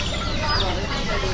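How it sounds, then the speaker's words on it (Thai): Bantam chickens cluck in a busy, noisy market shop, with steady background din and a brief higher call partway through. "พี่เอกกลับมาลงไก่แจ้เยอะแล้วนี่ไก่แจ้เต็มเลย"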